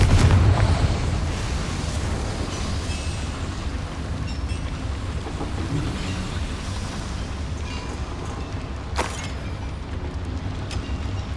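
An explosion from the Confringo blasting curse in Hogwarts Legacy opens with a loud, deep boom and then fades into a long rumbling, crackling tail of debris. A brief sharp burst comes near the end.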